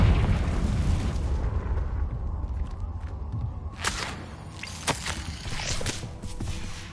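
Confringo spell cast in the Hogwarts Legacy video game, a booming blast at the start that rumbles and fades, followed by a few sharp cracking pops and light clatter.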